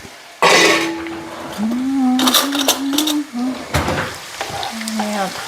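Washed rice tipped into a pot of boiling water in a home kitchen gives a brief splash and sizzle with some clatter, heard up close under a woman's chatter.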